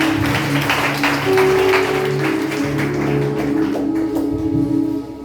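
A church congregation applauding and cheering under Pastor Marcsaint, with steady rhythmic clapping and crowd noise throughout, accompanied by sustained music tones, fading slightly at the end.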